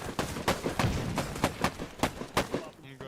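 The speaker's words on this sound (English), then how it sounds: "Somebody's just lined up with that and they're just pumping grenades into there." Rapid repeated explosive thumps from grenades being pumped out in the war shooter Operation: Harsh Doorstop, about eight sharp booms in quick succession over continuous battle noise.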